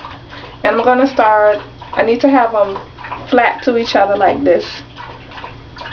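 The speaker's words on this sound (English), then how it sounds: "that's my dog drinking water in the background" A dog laps water from a bowl in the background, a soft wet rhythmic lapping mostly masked by someone talking nearby.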